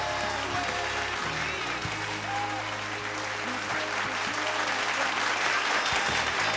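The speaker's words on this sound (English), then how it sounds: "Round of applause, ladies and gentlemen." Sustained audience applause at a TV singing contest show, a broad wash of many hands clapping with a steady music bed underneath and a brief voice mixed in.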